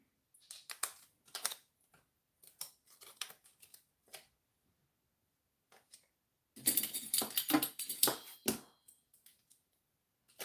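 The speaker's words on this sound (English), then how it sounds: "my scissors just don't behave" Scissors snipping through hard gel nail extensions in irregular bursts of short crisp cuts, close by, with a busier cluster of rapid snips toward the end.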